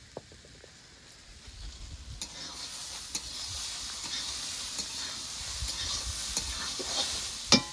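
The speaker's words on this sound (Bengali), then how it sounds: "হলুদ ছাড়া বাঁধাকপিটা ভালো করে ভেজে নিয়েছি" Shredded cabbage, cooked without turmeric, fries in a wok with a rising sizzle and hiss, punctuated by occasional stirring scrapes and knocks up close, with no voices.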